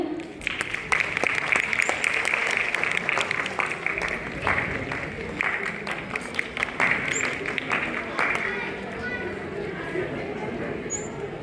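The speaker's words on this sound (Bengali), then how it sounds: "করতালি শব্দ কিন্তু খুব আসছে" An audience claps steadily at a Bengali poetry recital evening, a dense, sustained applause from a crowd in a hall, with a voice speaking over it.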